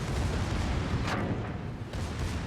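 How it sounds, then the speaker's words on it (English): Secondary guns on the battleship Pommern fire in a naval combat video game, giving dense rumbling booms that overlap into a continuous barrage, with one sharper blast standing out midway. "it's actually kind of amazing how many secondary shots you end up putting in the air"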